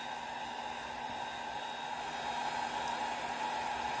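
A hair dryer blows over an alcohol ink painting of a fish and sea plants, a steady whooshing hum held at an even level throughout, close by and alone without any voices.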